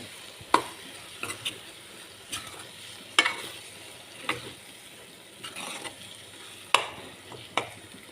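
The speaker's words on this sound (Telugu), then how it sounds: "మీ ఓపికని బట్టి ఇది ఫ్రై చేసుకోండి, మీకు ఎంత ఓపుకుంటే అంత." White brinjal frying in a pan while a spatula stirs it, soft steady sizzle broken by sharp, irregular scrapes and clicks of the utensil against the pan, close and fairly quiet, with no talking.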